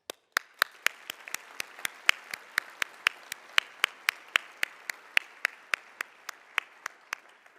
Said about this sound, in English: please join me in a warm round of applause for him and all that he has done for SSA.